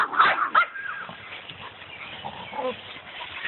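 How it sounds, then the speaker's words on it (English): A dog gives a few rough, growly barks and grumbles close by, strongest at the start, then trails into softer low vocalizing. "My dog is evil sounding."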